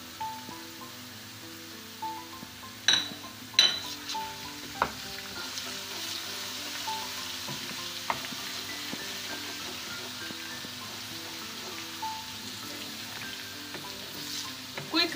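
Onions fry with ginger garlic paste in a pan for haleem, a steady close sizzle with occasional stirring clicks and scrapes, continuous and fairly quiet throughout with no voice.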